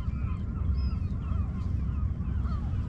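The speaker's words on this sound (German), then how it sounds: "Alle Möwen ziehen los." Seagulls call over the North Sea during a flatfish fishing trip, several thin cries drifting in and out above a steady roar of wind and sea.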